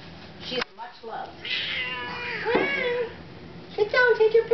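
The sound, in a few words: cat meowing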